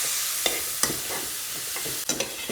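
Ground masala fries in hot oil, giving a steady hiss with a few sharp scrapes of a stirring spoon against the pan, close and without voices.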